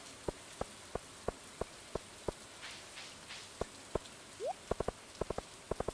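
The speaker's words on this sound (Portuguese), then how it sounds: "Chovendo, né, caramba?" Rain falling in the farming video game Stardew Valley: faint, sparse taps and ticks of drops on a surface, steady and quiet, with no talking.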